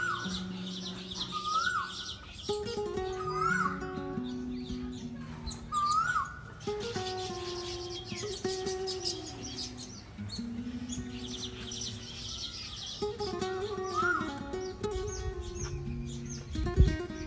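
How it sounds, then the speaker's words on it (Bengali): Many birds chirp and call at a resort park near Dhaka, a busy overlapping chorus of whistles, trills and repeated chirps at varied distances, continuous and moderately loud. "অসংখ্য পাখির কিচিরমিচির শব্দে"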